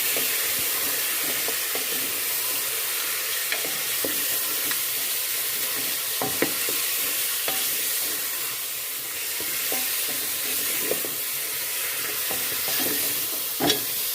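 Chicken frying in a pan with crushed garlic, ginger and green chili for desi chicken yakhni: a steady bright sizzle and hiss with intermittent stirring scrapes, close up and without voices.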